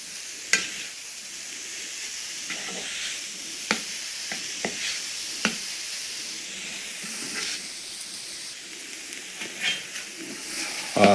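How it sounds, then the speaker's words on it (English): Spiced tofu scramble sizzles in a pan with a constant soft hiss while a utensil stirs it, giving scattered scraping knocks and clicks near the mic. "we'll give this a stir."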